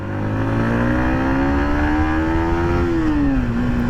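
A Yamaha MT-15 V2.0 naked street motorcycle revs steadily under load as the close, loud engine note climbs in pitch, then drops sharply at a gear change and holds again, with no talk over it.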